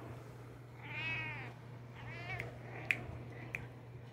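A cat meows several times, with a drawn-out call followed by shorter, sharper meows spaced a second or so apart. The sound is close and clear over a steady low background hum, and no one talks.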